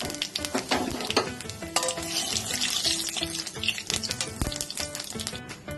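Cumin, bay leaf and dried chilli hit hot oil as a tempering for a taro-leaf dish with hilsa fish head, giving a loud, close, crackling sizzle with stirring clatter and sputtering throughout, and no talk.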